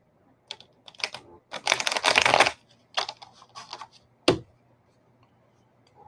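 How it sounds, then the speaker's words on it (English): Tarot cards are riffled in one brisk shuffle lasting about a second, surrounded by sharp card snaps and taps in a quiet room. "Let me give these a quick shuffle here."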